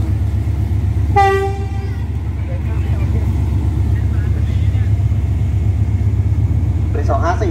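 Ordinary train No. 254 to Thonburi stands at Ban Pong station in Thailand. One horn blast sounds early, followed by a steady, loud rail rumble, while a station announcement carries on underneath.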